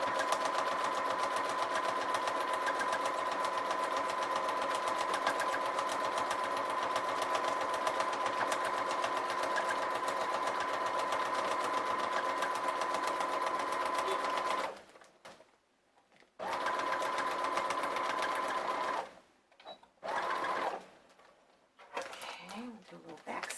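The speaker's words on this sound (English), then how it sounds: "Do a little back stitch." A sewing machine back stitching the binding of a handmade journal, a steady close mechanical whir and rapid needle chatter running continuously, then stopping and restarting in short bursts, with a person talking in between.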